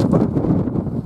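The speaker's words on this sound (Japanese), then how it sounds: "今日は風が強い。" Strong wind buffets the microphone outdoors during an off-road run of a DEERC 9000E RC car, a loud continuous low roar with gusty fluctuations.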